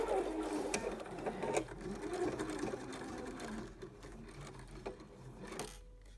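A sewing machine stitches a quilt seam toward the center of a cathedral window block, its needle chattering in close rhythmic runs that slow and stop near the end.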